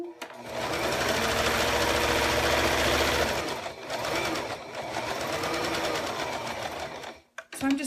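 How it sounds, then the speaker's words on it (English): A sewing machine runs steadily for about three seconds stitching a paper-pieced snowman quilt block, then continues in shorter bursts with pauses, close and fairly loud. "I'm going to quickly sew this one around"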